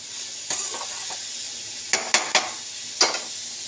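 Pumpkin pieces with turmeric and salt frying in a pan, a continuous sizzle broken by several sharp scraping knocks of a spoon stirring against the metal, heard up close.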